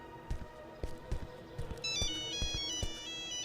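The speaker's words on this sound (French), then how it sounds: "Oh, c'est le téléphone de Jurassic Park 3." An old Nokia 3310 phone rings inside a video game, a bright electronic ringtone melody repeating over soft thuds and background game sounds, clear and close.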